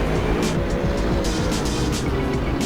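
A BMW GT3 race car in the Assetto Corsa sim, nursing a problem at Silverstone, drones steadily and loudly with a rough, uneven engine note and some tyre noise, with no break in the sound.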